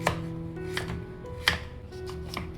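A knife chopping pumpkin into small pieces on a board, with a few separate sharp cuts at an uneven pace, close and moderately loud, with no talking.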